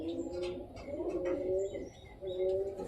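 Desi pigeons coo softly nearby in repeated low, throaty phrases, with a few faint chirps mixed in.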